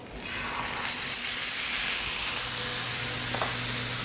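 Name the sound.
meat searing fat cap down in a hot pan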